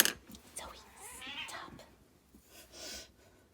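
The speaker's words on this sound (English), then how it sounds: "And that's my cat." A pet cat meows softly indoors, giving a couple of short, faint mewing calls with some breathy, whispery sound between them.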